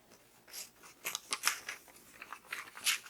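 Scissors snip through an embroidery pattern in a series of short, crisp cuts, about eight quiet clipping bursts spaced unevenly over a few seconds, with no talking.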